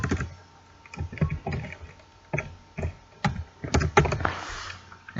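A name being typed on a computer keyboard, heard as close, irregular clusters of clicky keystrokes with short pauses between bursts, with no speech over it.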